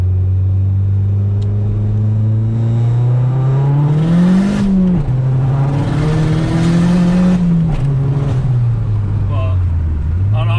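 A 400hp MazdaSpeed 3 pulls hard, its engine note rising through the revs, dipping at a shift and climbing again, loud and close from inside the car with a steady road rumble.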